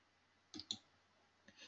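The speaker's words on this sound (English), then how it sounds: "Click on save." Computer mouse clicks while saving settings in Oracle EPBCS planning software: two quick close clicks, a pause, then two more, isolated against a quiet background.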